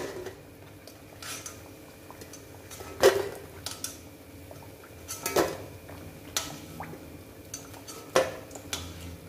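Fried egg bajji scooped out of a pan of hot oil with a metal ladle, giving a few distinct clinks and scrapes of metal on the pan over a soft background bubbling, with no talk.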